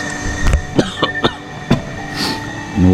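A person outdoors in cold weather coughs several times in short, sharp bursts, close and fairly loud, with a quieter hiss and a low rumble beginning near the end.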